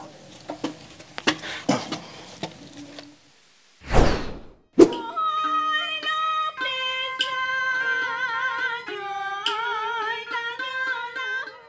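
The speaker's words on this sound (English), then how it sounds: "you can hear the AK-47s going off in the background" Sharp, loud cracks of AK-47 rifles firing in the background near Ho Chi Minh City, Vietnam, a few scattered reports, followed by a burst of loud wind noise and then a bright melodic music bed.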